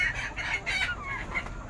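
Desi village hens cluck and chatter in a short, busy burst of overlapping calls at evening time near a shed, fairly close, over a low rumbling background.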